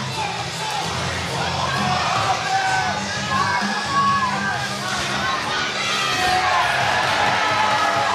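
Crowd at a 70kg K-1 kickboxing bout cheers and shouts steadily throughout, a dense, continuous roar of voices with scattered whoops, fairly loud and sustained without pause.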